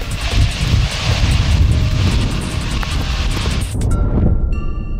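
The six jet engines of an Antonov An-225 Mriya cargo plane roar in a loud, steady, broadband rumble mixed with wind noise, cutting off sharply near the end.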